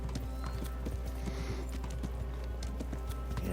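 Horse hooves clip-clopping in a video game, a quick steady trotting rhythm of hard clicks over a constant low hum, close and continuous, with faint game sounds behind.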